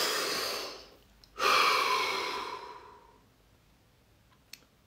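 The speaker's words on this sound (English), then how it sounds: "Take a deep breath." A person exhales softly, then draws in a long, deep breath close to the mic and lets it out slowly, followed by quiet and a faint click.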